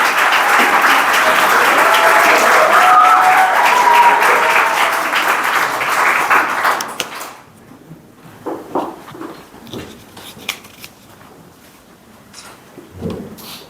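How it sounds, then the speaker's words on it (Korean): An audience at a school graduation ceremony in Sejong claps loudly to welcome a speaker to the stage; dense applause holds for about seven seconds, then breaks off into quiet footsteps and scattered knocks. "큰 박수로 환영해 주시면 감사하겠습니다"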